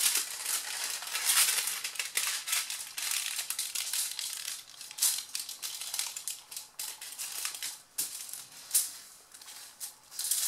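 Aluminum foil being folded by hand into a small boat, close and crisp crinkling and crumpling in irregular bursts, with sharp rustles and creases coming one after another.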